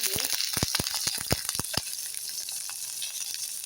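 Cumin seeds sizzle in hot oil in a pan on the stove: a steady, close frying hiss with a burst of sharp crackles and pops early on, then a calmer sizzle.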